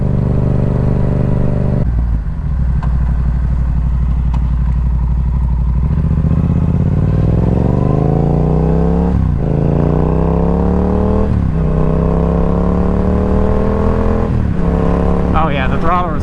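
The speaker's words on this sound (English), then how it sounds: "Oh yeah, the throttle response is definitely better." A Yamaha R7 motorcycle fitted with an aftermarket intake and a flashed ECU accelerates hard through several gears, each upshift dropping the rising engine note, loud and close throughout, with a voice speaking briefly near the end.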